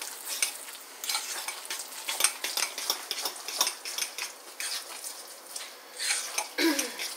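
Italian seasoning being stirred into a lasagna filling with a fork, giving close, steady scraping and clinking of the fork against the bowl in an irregular rhythm, with no talking.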